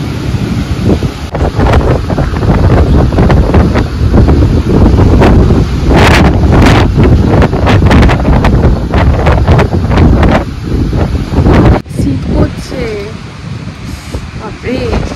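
Strong gusty wind during a heavy rainstorm buffets the microphone in loud, uneven surges over a rushing rain wash, easing abruptly near the end into a calmer, thinner hiss.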